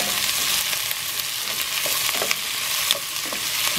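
Lomi made with Japanese udon noodles and carrot is stir-fried in hot oil, giving a steady close sizzle with soft scraping and tossing sounds throughout.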